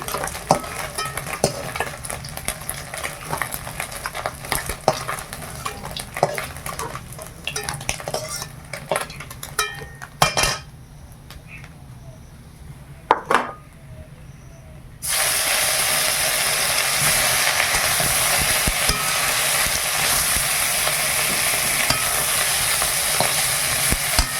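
Steady sizzling of food frying in a pan, with scraping and clinking of a utensil early on, then a loud continuous hiss for the last stretch.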